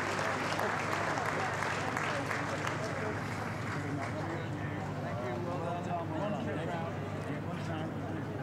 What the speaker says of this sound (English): make sure you give every one of these riders a big round of applause for the great competition